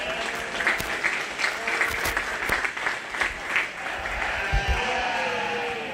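Applause for exhibitors after a class of dark cross commercial ewe-lambs at a county fair 4-H/FFA sheep show: steady, sustained clapping from a crowd, with a few sheep bleats mixed in.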